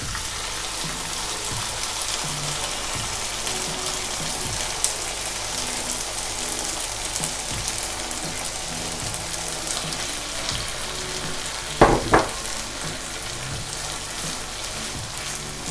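Fragrant spicy sauce poured into Thai basil pork with green beans frying in a pan: a steady, rain-like sizzle throughout, with a brief sharp burst of louder spitting near the end.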